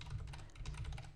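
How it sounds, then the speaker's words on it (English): Rapid, steady keystrokes on a computer keyboard as an SQL query is typed, close and continuous with no speech. "I'm basically just going to, type an SQL query"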